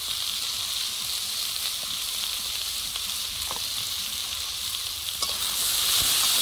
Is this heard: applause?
no